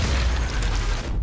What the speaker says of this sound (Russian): Выстрел в голову